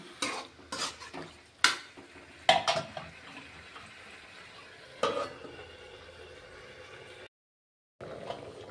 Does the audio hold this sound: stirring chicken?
yes